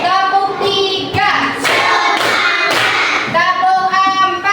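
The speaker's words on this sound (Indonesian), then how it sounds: "Tepuk 1, tepuk 2, tepuk 3" A class of students claps along to a teacher's counting chant, with rhythmic groups of loud hand claps under the tones of a sung or chanted voice.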